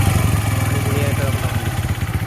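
A Bajaj CT 100 motorcycle engine idles right after its first start, a close, steady, even putter with a regular low pulsing beat, while someone talks over it.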